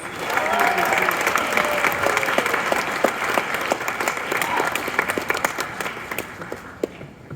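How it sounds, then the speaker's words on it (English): Sustained applause from an audience filling the whole stretch, dense clapping at a steady level that thins slightly toward the end. "Let's give them one more round of applause!"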